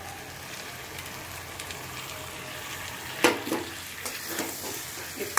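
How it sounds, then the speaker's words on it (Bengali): Sour yogurt poured into hot oil in a pan where meat is being cooked with bay leaves and garam masala, giving a sudden loud sizzling burst that settles into a softer crackling fry. "এবার আমি টক দইটা দিয়ে দিচ্ছি"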